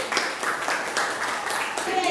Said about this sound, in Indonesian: tepuk tangan dong buat Yandi.